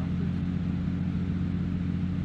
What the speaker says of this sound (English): Okay, so it has a loud engine.